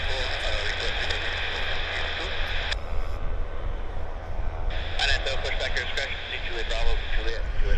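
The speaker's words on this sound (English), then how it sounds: "Quickly, I'll show you what the takeoff looks like here." An aircraft takes off at Vancouver Airport, a steady, loud, broad roar that holds for the whole stretch, with radio-style voices crackling over it.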